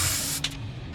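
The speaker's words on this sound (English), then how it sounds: "So now I'm gonna spray everything down with some brake cleaner." An aerosol can of brake cleaner is sprayed onto the front brakes of a 2014 Cadillac SRX: a loud, continuous hiss that breaks off, followed by two short, sharper bursts, up close with no talking.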